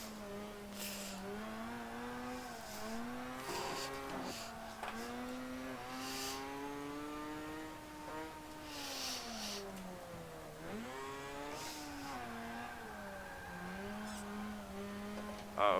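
A fairly quiet turbocharged racing-game car engine revs up and down through gear shifts, its pitch rising and dropping with a steady mechanical whine.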